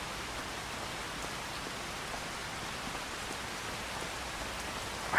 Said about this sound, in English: I think this rain's going to stop soon.